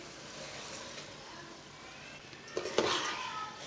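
Semolina halwa with sugar being stirred in a pan, a soft steady scraping and faint sizzle throughout, with a couple of louder clinks of the spoon against the pan near the end.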